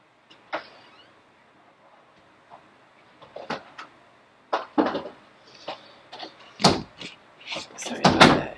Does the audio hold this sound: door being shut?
yes